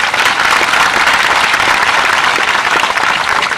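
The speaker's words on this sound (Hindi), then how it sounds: "ताली बजाओ, जोरदार बजाओ।" Loud, dense applause from a large crowd at a religious question-and-answer gathering fills the whole stretch, a continuous, close wash of clapping with no talk.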